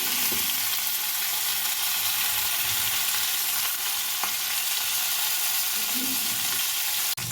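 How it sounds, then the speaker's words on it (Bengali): Chicken sticks frying in oil, a dense, constant sizzle up close with occasional stirring scrapes and a sharp knock near the end; no speech. "চিকেন স্টিকগুলো আমি ভালো করে ওলটপালট করে ভেজে নিয়েছি।"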